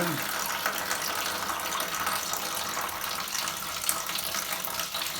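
A toilet cistern refilling with water through a Korky fill valve, a faint steady hiss and trickle of running water close by with occasional small mechanical clicks.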